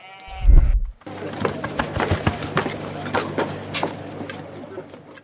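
Sheep bleat amid a busy crowd, with constant chatter, footsteps and knocks filling a lively outdoor livestock market scene in a reconstruction of 1500s Tudor London.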